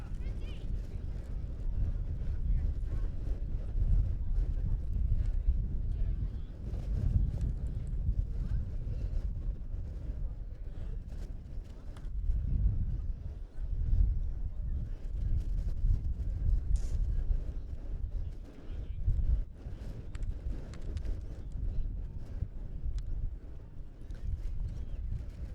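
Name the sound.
wind blowing across an outdoor playing field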